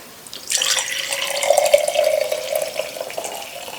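Hot water poured from a container into a glass jar for a DIY glitter jar, a steady close splashing stream that starts after a brief pause and runs to the end.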